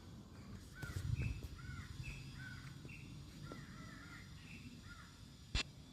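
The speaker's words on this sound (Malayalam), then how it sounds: "ഈ സമയം കിളി കരയണൊക്കെ കേൾക്കാം" Crows caw repeatedly in short harsh calls at a moderate distance in a Munnar village in Kerala's Western Ghats, with a sharp knock near the end.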